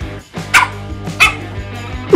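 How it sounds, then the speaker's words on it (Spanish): A dog barks twice in short, sharp yips at close range in a home, with a few quieter whimpering sounds between them. "Te he dicho que no ladres."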